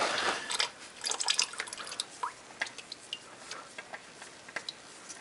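Motor oil draining from a 2015 Honda Fit into a drain pan, starting as a splashing pour that thins into slow, irregular drips falling one by one.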